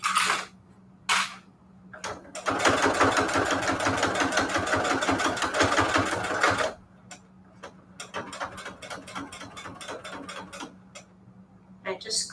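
A sewing machine runs in rapid bursts of stitching, a long steady run followed by shorter stop-start spurts, close and clear over a faint hum.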